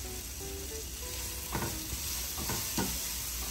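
Vegan tuna salad mixture with ginger paste sautéing and being stirred in a pan: a steady close sizzle with a few sharper scraping stirs and no talking.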